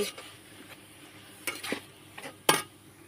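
Carrot halwa being turned over in a pan, quiet stirring with a few sharp scrapes and clinks of the spoon against the metal, faint background hiss between.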